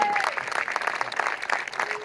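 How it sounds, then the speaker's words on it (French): A crowd at a French motocross championship event gives a brief burst of applause, moderately loud and continuous with a faint voice mixed in. "Vous pouvez les applaudir."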